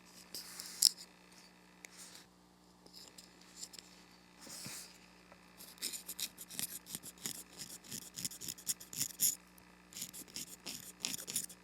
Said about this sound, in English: I'm just going to scrape along the sides here because it's a bit heavier